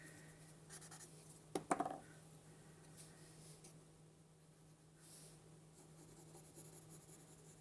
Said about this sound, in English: I'm still just doing rough little lines